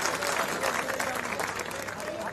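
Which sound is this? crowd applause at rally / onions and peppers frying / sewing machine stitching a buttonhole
crowd applause at rally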